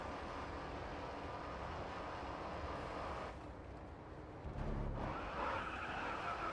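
A muscle car drifting in the racing game Grid Autosport, its engine a loud steady roar with rough tire scrubbing that briefly drops and then surges back.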